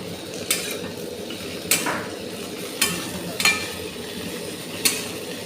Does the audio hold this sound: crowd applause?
no